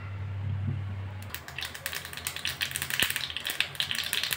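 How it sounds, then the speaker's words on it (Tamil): Mustard seeds spluttering in two teaspoons of hot oil for a red coconut chutney tempering, a fast, crackling patter of pops and sizzles that starts abruptly after a low hum and continues close and lively. "கடுகு நல்லா பொரிஞ்சிச்சு"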